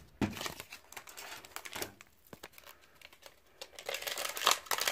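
The plastic wrapper of a Dragon Ball Super card booster pack crinkles and tears in quick, irregular bursts, close and fairly quiet. Tape is stuck inside the pack.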